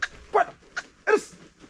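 Dogs bark in short separate yaps at a villa demolition site, four sharp barks spread across under two seconds, fairly close and clear over quiet background.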